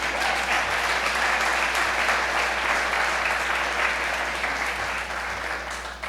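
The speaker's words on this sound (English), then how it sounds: "Thumbs up, big round of applause," Audience applause at a mayor's State of the City address in Kitchener, a steady dense wash of clapping from a large crowd, sustained and even throughout with a slight fade near the end.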